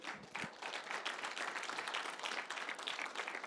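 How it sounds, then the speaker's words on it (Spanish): Church congregation clapping during a Sunday worship service, steady dense applause at a moderate distance, fairly faint and without speech. "Dale un aplauso al Señor, hermano."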